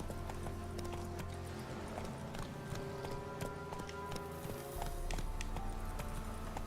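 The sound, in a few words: Roach the horse galloping in video game Witcher 3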